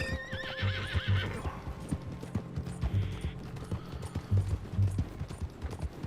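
A horse in the video game Red Dead Redemption 2 whinnies loudly at first, then its hooves clip-clop in uneven bursts amid faint background game noise.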